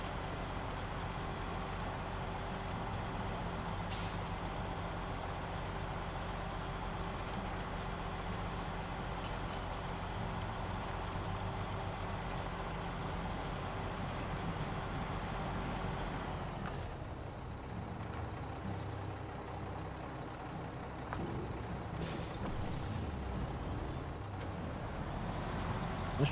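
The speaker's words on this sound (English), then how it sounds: "This truck goes through a lot of fuel, I feel like." A heavy truck in the SnowRunner video game rumbles with a steady, low engine drone throughout, broken by a brief hiss of air brakes partway through, with no talking.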